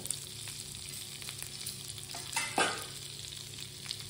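Butter melts and sizzles in a hot pan after chicken has been taken out for lemon chicken, giving a steady close crackle with a brief louder burst of spitting midway. No one speaks.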